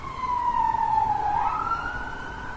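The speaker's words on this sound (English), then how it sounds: "There are so many sirens going off outside." A wailing siren sweeps across a steady rumble of traffic, continuous and moderately distant, rising and falling in pitch throughout.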